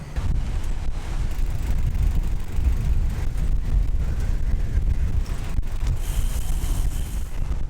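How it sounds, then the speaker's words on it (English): Strong wind buffets the microphone on a hilltop along the South Downs Way during a bikepacking wildcamp, a steady loud low roar with gusty rumble throughout. "Bit windy"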